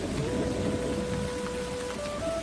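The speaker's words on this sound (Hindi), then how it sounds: "बारिश मूसलाधार होने लगी।" Heavy downpour sound effect during a narrated story about a sudden storm in a forest: dense, steady rain hiss throughout, loud and close, with a faint thin tone running beneath and no voices.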